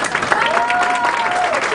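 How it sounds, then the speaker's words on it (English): An audience applauds presenters at a community event, a steady dense wash of clapping that stays loud for the whole moment, with a faint sustained tone running underneath. "let's give a big round of applause to our presenters"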